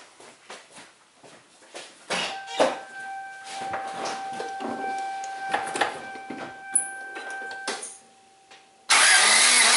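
A Toyota 1.6/1.8L engine in a 1996 Geo Prizm with an oil-burning problem cranks over in uneven bursts during a hot compression test, with clicks and rhythmic starter whirring, then a sudden burst of loud broadband noise at the end.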